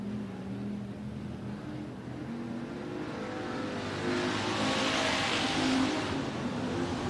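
Hobby stock race cars at Antioch Speedway roar around the track in a distant, droning rumble that swells louder as the pack approaches, with no talk audible.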